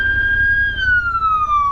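A fire truck siren, heard during a motorcycle ride to Hayfork, holds a loud steady wail and then slides gradually downward in pitch. Engine and wind rumble run underneath it.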